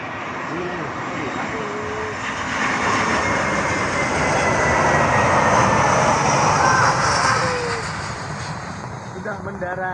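A Batik Air Airbus A320-214 lands at Halim Perdanakusuma airport, heard from inside the cabin as a loud, continuous engine roar that swells mid-clip and then eases, with people talking underneath.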